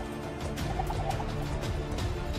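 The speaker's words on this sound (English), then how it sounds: "Big chicken! Down you go!" Chickens in the Minecraft Batman DLC game make clucking and squawking calls over a continuous loud background wash of game ambience, steady throughout with no speech.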